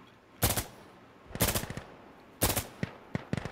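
Gunfire in the video game Insurgency: Sandstorm: three loud, sharp shot bursts about a second apart, each with a short echoing tail, followed by a few lighter rapid pops near the end.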